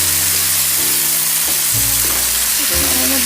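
Paneer pieces stir-fry in masala in a pan, giving a loud, continuous sizzle with scraping stir strokes throughout and no talking.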